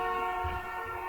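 Horns blare in a long, sustained harmonic tone, loud and steady throughout the second, like a train or vehicle horn sounding outside.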